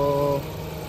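Mitsubishi Xpander GLS automatic seven-seater with a 4A91 DOHC engine, idling steadily nearby with a low hum and mid-range tonal whine that drops slightly partway through.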